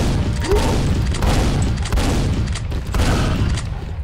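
Rapid sustained gunfire in Quake, shooting at an emblem on an arch: dense, continuous shots with a heavy low rumble, loud and close throughout.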